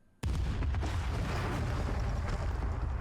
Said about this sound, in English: Explosions rip through the hallway with a force unlike anything I've felt before.